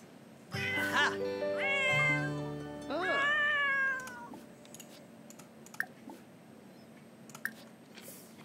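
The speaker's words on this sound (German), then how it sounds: "Die Katze ist krank." A sick cat in The Sims 4 video game gives two or three drawn-out, wavering meows in quick succession, close and clear, followed by faint clicks and small taps.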